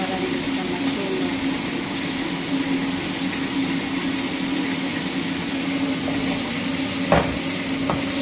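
An egg frying in a pan over lowered heat, left unstirred, gives a steady, even sizzle throughout, with a brief sharper crackle near the end and no talking.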